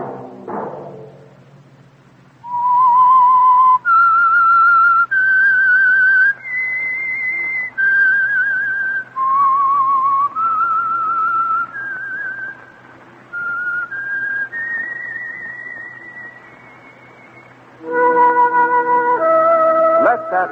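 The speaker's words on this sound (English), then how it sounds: "That whistle be your invitation to listen to the Household Finance Corporation program, The Whistler" A lone whistler performs the eerie theme tune of The Whistler radio mystery program, clear sustained notes in a slow descending and rising melody with brief pauses, loud and close on an old broadcast.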